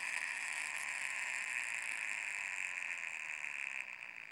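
A small biased reed switch pulse motor whirs steadily with a high mechanical buzz, close and fairly quiet, and eases slightly toward the end as it runs down.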